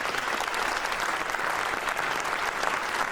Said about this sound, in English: Let's turn applause for those guys.